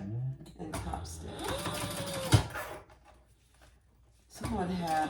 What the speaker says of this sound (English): now I'm going to turn that over and top stitch